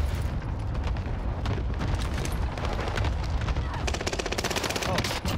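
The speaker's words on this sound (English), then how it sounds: "Wait, that's my airstrike" Continuous heavy barrage of airstrike explosions and rapid gunfire in Call of Duty Warzone on the Fortune's Keep map, loud and dense throughout with no break, rumbling booms layered under crackling automatic fire.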